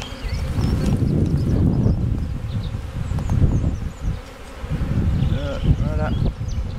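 Honeybees buzz steadily and close at an open hive in Chartres while a brood frame of eggs is lifted, a dense continuous drone with a few louder passes near the microphone.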